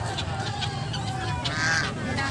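A male duck at an animal market gives raspy honking calls over a dense crowd and market hubbub.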